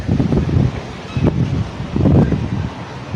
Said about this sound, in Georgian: დღეს როგორი ამინდი გვაქვს ქარიანი, საშინელი ქარიანი.